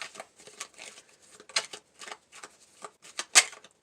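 Tarot message cards shuffled by hand during a reading, giving a run of soft papery riffles and flicks at close range, with a sharper snap near the end and no talking.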